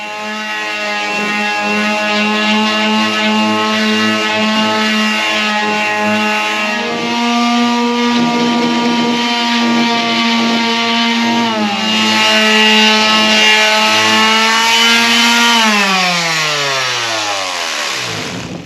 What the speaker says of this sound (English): we're going to take the sander over this and just clean it up a little bit with the sander